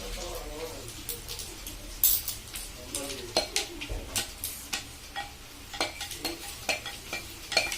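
Carbonara sauce being stirred in a pan, a steady run of soft scraping, clinking strokes with a faint sizzle underneath, close by and moderately loud, with no voices.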